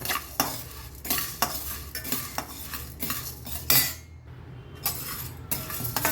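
Lentils being dry-roasted in a pan for thalipeeth flour, stirred with a metal utensil, giving steady repeated scraping and clinking strokes close up with a faint dry sizzle underneath and no voices.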